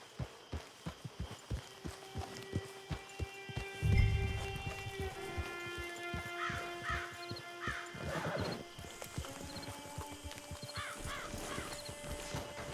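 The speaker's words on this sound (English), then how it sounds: "Get your horse." A horse in Red Dead Redemption 2 walks with steady, quiet clip-clop hoofbeats, broken by a couple of neighs and snorts partway through, with no talking.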